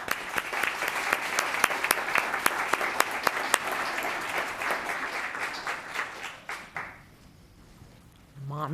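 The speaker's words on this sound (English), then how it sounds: "Another round of applause." Applause from an audience at a town council meeting in Los Gatos, a dense wash of clapping that holds steady for several seconds, then thins out and stops, leaving near silence with a brief voice at the very end.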